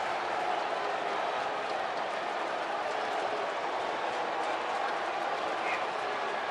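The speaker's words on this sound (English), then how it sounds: "gives that Met cheering section something to cheer about today" Mets fans in the away section at a Cubs ballpark cheer a two-run home run, a broad, steady crowd roar heard at a distance with a commentator talking over it.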